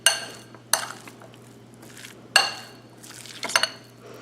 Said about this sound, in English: I'm going to just mix it all together so that it'll combine well